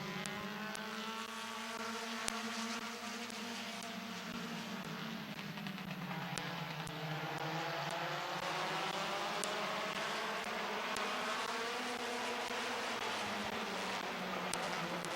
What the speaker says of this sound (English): Getting ready to go back to green flag racing, and we're underway.